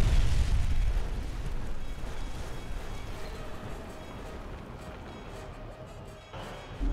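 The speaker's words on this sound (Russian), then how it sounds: "Взрыв, как будто атомная бомба взорвалась." A huge, booming explosion from the final battle of the Kung Fu Panda video game bursts loudly at the start, then rumbles on as a dense roar that slowly fades over several seconds.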